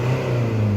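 A Range Rover Evoque engine runs at steady, elevated revs between 2,000 and 3,000 rpm with a strong low hum, sustained and close, its turbo actuator slightly sticking.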